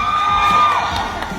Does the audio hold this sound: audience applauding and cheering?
yes